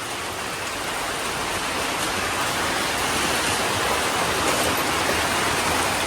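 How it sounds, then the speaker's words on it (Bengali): Heavy rain pours down in a dense, unbroken hiss that holds steady and fairly loud throughout, with no voices or other sounds over it. "মুষলধারে বৃষ্টি হচ্ছে"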